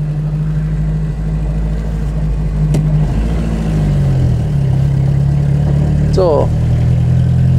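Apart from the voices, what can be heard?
1940 Rosengart LR539 Supertraction car engine running, 50 hp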